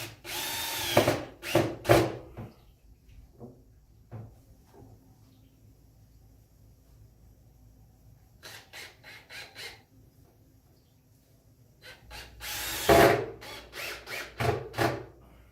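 A power drill with a magnetic bit drives screws into wood for a homemade chicken plucker, several short whirring bursts separated by quiet pauses, close and fairly loud.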